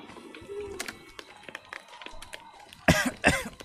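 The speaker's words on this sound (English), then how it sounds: "Like, I seriously cough around a fire." A character coughs near a fire in the horror game Maid of Sker, two sharp close coughs near the end after quieter scattered clicks and faint ambient noise.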